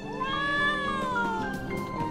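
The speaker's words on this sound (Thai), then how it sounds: "แมวเหมียว" A cat in the game Trials of Mana lets out one long, clear, drawn-out meow that slowly falls in pitch, close and loud with nothing else over it.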